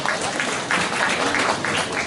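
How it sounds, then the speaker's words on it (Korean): Steady applause from an audience at a press conference, a dense wash of clapping that holds at an even level for the whole stretch. "박수로 맞이해 주십시오"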